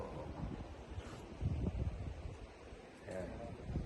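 Steady wind buffeting the microphone outdoors while fishing in Sudipen, La Union, Philippines, with low rumbling gusts that swell around the middle and again near the end.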